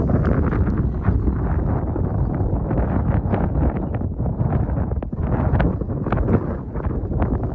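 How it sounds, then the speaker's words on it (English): Steady, loud wind buffeting the microphone in the desert, a constant low rumble with gusty fluctuations throughout and no voices. "it's windy over here"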